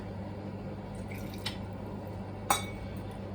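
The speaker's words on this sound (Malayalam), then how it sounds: "കുറച്ച് വെള്ളം കൂടി ചേർത്ത് കൊടുക്കാം." Water poured into a pan of prawn curry, heard as two brief, faint splashes and drips over a quiet, steady kitchen hum.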